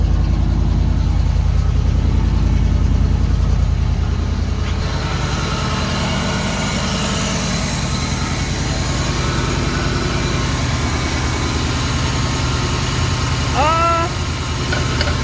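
A Ford Mustang Foxbody engine settles into a steady, loud, rumbling idle with continuous low vibration. A brief chirp comes near the end, and no one speaks.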